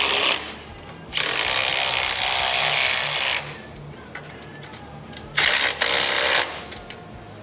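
Power tool driving the motor mount bolts on a Sportster engine in a Led Sled frame, two loud bursts of whirring and rattling with a quieter pause between them.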